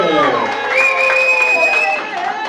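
An audience claps for a speaker at a couples debate stage event, dense applause that is loud and close and runs nearly throughout, with a voice calling out over it.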